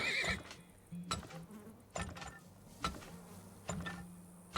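A horse in the video game Turmoil gives a short, bright whinny at the start, followed by several evenly spaced game thuds and clicks over a low, steady background hum.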